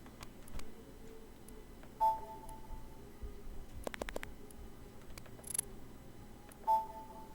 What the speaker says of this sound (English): No, that's the alarm.